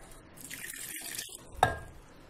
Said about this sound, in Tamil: இப்போ இந்த இளநியை நம்ம மிக்சி ஜாரில் போட்டு இந்த இளநீர் தண்ணியும் விட்டு நம்ம நல்லா நைஸாக அரைச்சிக்க போகிறோம்.